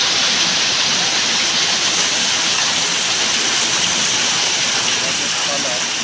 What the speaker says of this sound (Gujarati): આજે બપોરે 12:45 અચાનક જ વરસાદ જોરદાર શરૂ.